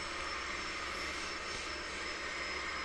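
The engine of an Alpha Jet in a flight simulator gives a steady, even hum with a high whine. It stays constant the whole time, with no voices.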